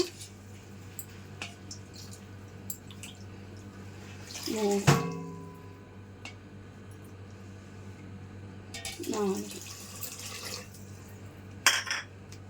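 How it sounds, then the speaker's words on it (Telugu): Water is poured onto sugar in two short cup-measured bursts, separated by quiet, with light clinks of a cup or vessel, while making gulab jamun syrup. "ఇప్పుడు 1 కప్పు నీళ్ళు పోసాను"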